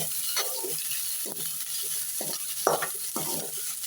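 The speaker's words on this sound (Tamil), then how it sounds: "நம்ம வெங்காயத்தை நல்லா ஃப்ரை பண்ணணும்" Onion and garlic frying in a pan, a steady close sizzle with a few stirring scrapes at intervals over it and no talking.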